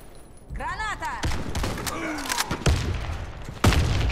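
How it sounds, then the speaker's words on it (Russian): In a shooter game played on a hangar map, a grenade blast lands amid scattered gunfire and thuds, with sharp bursts near the end. Voices shout over the action. "Осторожно, граната! Поберегись! Граната!"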